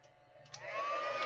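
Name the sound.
hair dryer running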